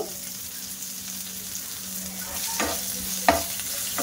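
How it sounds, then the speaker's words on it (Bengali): Chopped curry leaves, green chili and ginger stir-fry in hot oil for dosa, a close steady sizzle broken by a few sharp spatula scrapes and one clear clink against the pan. "তো হালকা কারি পাতাটা ভাজা করে নিয়েছি।"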